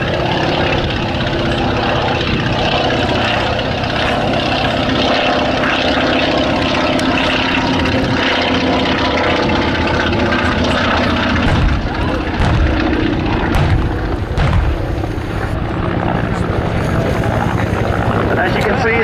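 A propeller aircraft makes a slow-speed pass at an air show combat display, a loud continuous engine drone that holds steady for the whole stretch while a commentator talks over it.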